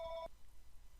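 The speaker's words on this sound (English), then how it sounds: "I apologize for the phone ringing." An office telephone rings in a quiet room: a short electronic ring burst at the start, a near-silent gap, then the next ring just beginning at the end.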